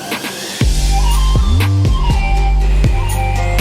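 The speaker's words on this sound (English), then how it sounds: "But that's the rev limit." An Infiniti G35 sedan engine revs hard several times, rising sharply and bouncing off the rev limiter with loud, close, repeated bursts.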